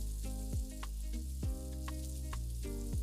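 Vegetables sauté in a hot pan for kothu chapati, giving a steady close sizzle, with music running through it.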